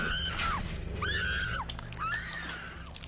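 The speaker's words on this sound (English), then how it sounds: "Granted, I had a good scream." Woman's horror film scream, repeated three times in a row: each a long, piercing wail that rises, holds and then falls away, loud and close over a steady rumbling background.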